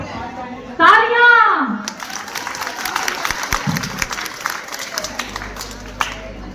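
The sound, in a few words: audience applause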